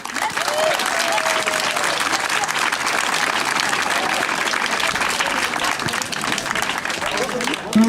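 A crowd rallying for a hospital in Gramat applauds a deputy with dense, continuous clapping, loud and close, holding steady throughout with scattered voices mixed in.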